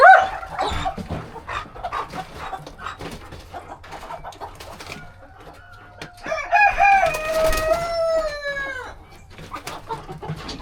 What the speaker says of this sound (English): Go there and bark. Go down there and bark.